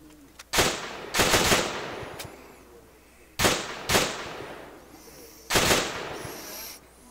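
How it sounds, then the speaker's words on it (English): Heavy machine gun fire in the military game ArmA 3 crackles in loud rapid bursts, several clustered volleys with echoing tails, spaced a couple of seconds apart. "looks like HMG sound from the north of the town"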